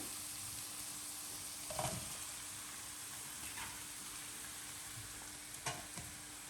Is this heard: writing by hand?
no